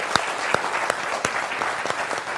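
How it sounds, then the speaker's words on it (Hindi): A studio audience at a televised political debate show claps in sparse, scattered applause, with individual sharp claps standing out from a soft background hiss. "उनका जोरदार तालियों के साथ अभिनंदन करिए"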